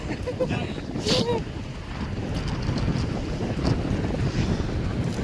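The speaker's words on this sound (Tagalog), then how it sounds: "Lakas ng hangin." Strong wind roars and buffets the microphone continuously during fishing, with a steady broadband rush and occasional louder gusts.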